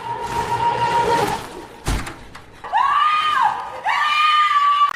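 A woman screams hysterically in a horror film, Piggy: a few loud, drawn-out shrieks after a brief thud, with heavy, dense sound beneath.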